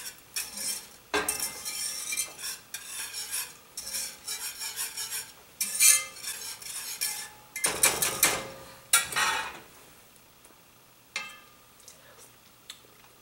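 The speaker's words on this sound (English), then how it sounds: "Stir it in." A spoon stirs broth into chicken pot pie filling in a pot, making intermittent scraping and clinks of metal against the pan in irregular bursts, close up, then trailing into quieter gaps near the end.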